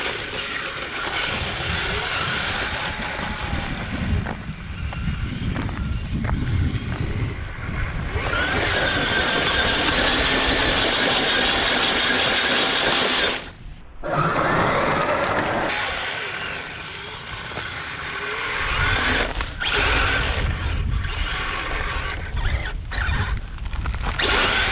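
Brushless 3S RC Ripsaw drift tank churning through long grass about 8-10 inches tall, a loud continuous whirring motor and rattling track noise that cuts out briefly midway, then grinds on with ratcheting, squealing mechanical clatter.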